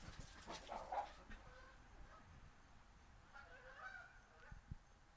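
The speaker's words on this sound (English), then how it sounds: "some Canadian geese flew down, and these 3 cute dogs turned into savage hunters" Canada geese land and dogs chase after them, faint distant honks mixed with a few yelps and whimpers, all quiet and thin against background noise.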